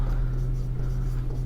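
Hand-writing during a Pythagoras theorem practice lesson, a steady scratchy stroke over a constant low hum, close and continuous throughout, with no talking.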